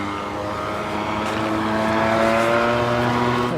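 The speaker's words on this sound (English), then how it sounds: "Man, it's just a little scooter they just went by." Small scooter passing loudly on an outdoor street near the Montreal airport, a steady droning engine whine with harmonic tones that swells slightly as it goes by, with no talk.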